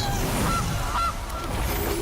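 Two short goose honks, clear and fairly loud, play as a card sound effect in MTG Arena, spaced about half a second apart over a low steady background.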